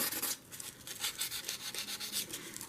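Light sanding rubs glue and glitter Mod Podge off a small craft tool in quick, close, scratchy strokes with a steady rasping rhythm, fairly quiet, with no one talking.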